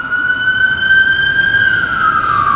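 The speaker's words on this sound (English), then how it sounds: "We got sirens." Emergency siren wailing loudly and close with a steady high tone that slowly falls in pitch, no voices.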